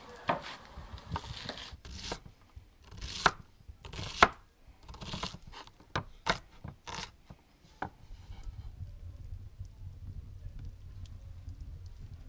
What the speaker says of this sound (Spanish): vamos a picar bien la cebolla